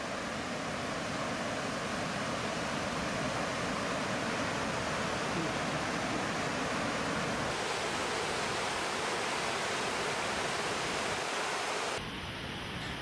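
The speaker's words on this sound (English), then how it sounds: "The sound of rushing water cascading down the rocks is intimidating." Chihong Falls on the Chihong River in Guyana's highlands roars steadily as water cascades down rocks, a dense, unbroken rush that stays loud throughout before shifting abruptly near the end.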